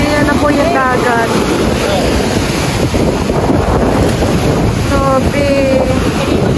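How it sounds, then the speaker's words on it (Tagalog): Sea waves wash onto the shore under strong gusting wind that buffets the microphone, a loud continuous roar with faint voices in the background. "Ayan na po yung dagat."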